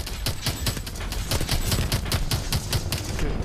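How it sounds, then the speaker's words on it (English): Sustained rapid gunfire in the Call of Duty Advanced Warfare campaign mission Bio Lab, a loud, dense rattle of overlapping automatic shots and bursts continuing without a break. "Taking fire from the right!"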